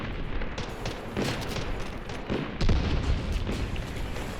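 Grenade blasts and gunfire from the shooter game Delta Force: Black Hawk Down, with dense, rumbling bursts running through the whole stretch and a stronger boom partway through, no talk over it.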